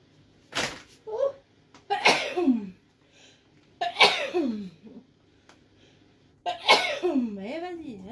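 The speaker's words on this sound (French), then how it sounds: "Je vais éternuer." A sharp sneeze followed by a few more sneezy bursts and coughs, with a voice talking in between.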